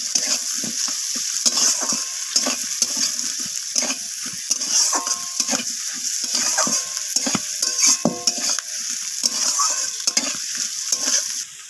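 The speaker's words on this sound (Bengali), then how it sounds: "তো আলুগুলোকে আমি পেঁয়াজের সাথে ভেজে নেব লালচে লালচে করে।" Cut potatoes fry with onions in a pan for a Bengali surmai fish curry, a steady bright sizzle broken by repeated scraping stirs and clinks of a spatula, close and continuous with no talk.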